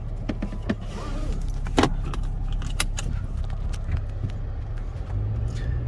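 A second-generation Toyota Tacoma with a newly replaced air conditioning compressor drives along, giving a steady, close low rumble inside the cab with light jingling and rattles on top. Nobody talks.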